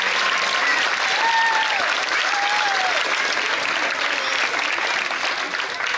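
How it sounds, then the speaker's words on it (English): Sustained crowd applause at an outdoor park grand opening, steady dense clapping with faint voices and a few whistles mixed in. "give a round of applause to the city manager and his staff for getting this fabulous park together"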